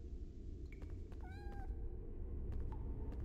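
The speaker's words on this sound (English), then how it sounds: "Oh, I hear the cat." A kitten in a PlayStation video game gives a couple of high, thin meows, one drawn out, over a low steady background hum.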